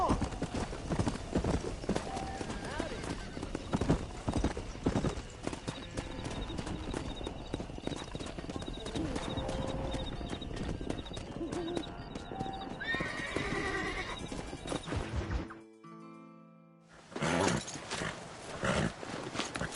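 Horses in the Red Dead Redemption video game neigh and whinny over steady clip-clopping hooves, busy and close, with shouting voices and a brief dropout near the end before the noise resumes.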